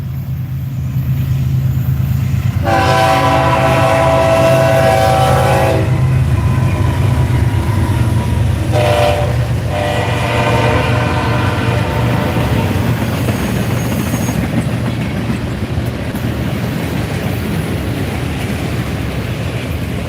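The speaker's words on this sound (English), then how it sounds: "Everybody's got to hear the train" A train rumbles past loudly in Ellisville, Mississippi, with a heavy low roar, its horn sounding a long blast, then a shorter one, before the noise slowly fades.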